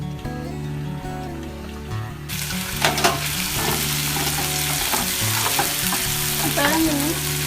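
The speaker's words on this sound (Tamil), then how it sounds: "நல்லா அப்படியே வெங்காயம் நல்லா ஃப்ரை ஆகணும்" Onions frying in a pan for a Tamil prawn thokku, a steady loud sizzle that surges in after a couple of seconds, broken by stirring scrapes and clinks.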